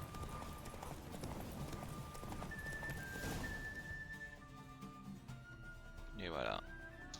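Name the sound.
horse galloping during a race in video game The Witcher 3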